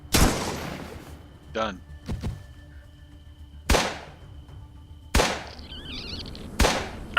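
Sharp single gunshots in the post-apocalyptic RPG Atom RPG, four loud isolated reports spaced a second or more apart with ringing tails, plus small clicks between them and a brief spoken word.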